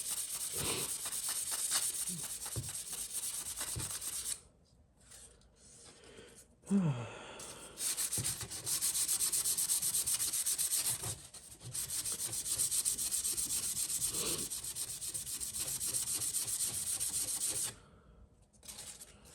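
Steady rasping strokes of sandpaper worked along a carbon fiber edge, close and continuous with a few brief pauses between passes.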